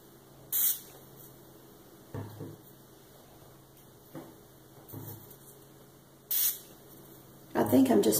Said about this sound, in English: let's give it a few more sprays, and I'm going to be even more generous this time.